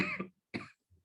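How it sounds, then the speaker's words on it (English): Two close, dry coughs in quick succession, followed by a faint low throat sound. "Coughing."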